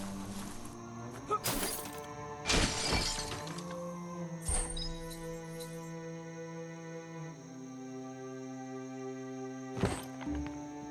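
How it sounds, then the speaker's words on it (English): A wooden box smashes apart in the video game Biomutant, with several loud splintering cracks and thuds spread over the clip against a steady layer of game music. "You shouldn't worry about smashing up the box."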